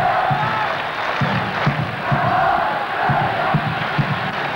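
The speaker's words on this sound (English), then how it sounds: "Good support from this Sydney sports ground crowd here." A large football crowd at the Sydney sports ground during a 1981 World Youth Championship match between Australia and England, a loud sustained roar with rhythmic chanting swells under the distant din.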